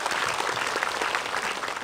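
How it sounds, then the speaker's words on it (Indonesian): A religious gathering's audience applauds Ustadz Maulana with dense, steady clapping from many hands throughout, fairly close and even in loudness, with no break. "Tepuk tangan dong Ustadz Maulana dong."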